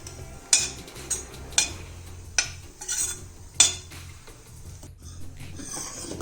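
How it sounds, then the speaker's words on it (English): Grated coconut sautéing in a spoonful of ghee for coconut jaggery laddu, with a spoon clinking and scraping the pan in irregular strokes over a soft low sizzle. "In this I'll add 1 big spoon of ghee and the grated coconut to this, and we will saute this for"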